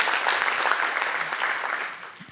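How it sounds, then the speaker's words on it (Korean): Audience applause in a lecture hall during a talk on Korean traditional music, a steady broadband patter of many hands that holds for a couple of seconds and then fades. "박수 한번 드릴게요."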